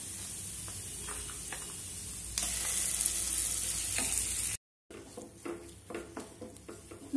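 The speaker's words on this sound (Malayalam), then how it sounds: "നമുക്കൊരു 2-3 മിനിറ്റ്സ് മാത്രം ഈ ചട്നി ഇതിനകത്ത് ചേർത്ത് കൊടുത്തിട്ട് ഇളക്കി കൊടുത്താൽ മതി." Kovakka (ivy gourd) chutney with curry leaves sizzles and fries in a pan, steady loud frying broken by scraping stirs, then a brief gap before softer intermittent stirring and crackle.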